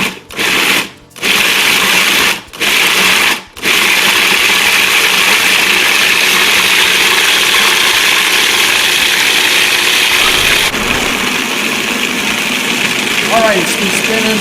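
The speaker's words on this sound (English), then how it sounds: "we're going to puree this basically to a paste of hamburger meat" An appliance purees hamburger meat with sea salt into a paste: a loud, steady motor whir that cuts out in a few short pulses at the start, then runs continuously and shifts slightly in tone near the end.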